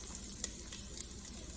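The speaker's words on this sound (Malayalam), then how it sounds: "നമുക്ക് ഇതിനകത്തേക്ക് ഇഞ്ചി വെളുത്തുള്ളി പച്ചമുളക് ഇട്ട് കൊടുക്കാം" Ginger, garlic and green chili sizzling in hot oil for chili chicken, a steady close crackling hiss with a couple of brief sharper pops.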